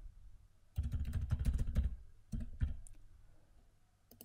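Someone types a password on a computer keyboard, a quiet close burst of rapid key clicks, a short pause, then a few more scattered taps.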